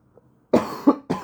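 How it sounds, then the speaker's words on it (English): Three harsh coughs from a tired man, close and fairly loud, the first two a quick pair followed by a single cough after a short pause, set against a quiet room with no talking. "I'm sorry about the coughing"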